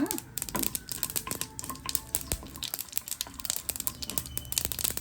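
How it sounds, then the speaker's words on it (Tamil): Rapid irregular crackles and pops of mustard seeds sputtering in hot oil, close and continuous, with no one speaking. "கடுகு பொரிக்குது பாருங்க."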